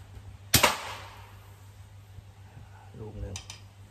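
An NFZ50 folding crossbow fires once with a sharp, close snap and brief ringing twang, followed by quiet room tone and a short spoken comment.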